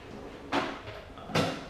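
A drawer on a mechanic's impact tool station slides open in two short, close scraping bursts separated by a brief pause, in an otherwise quiet garage.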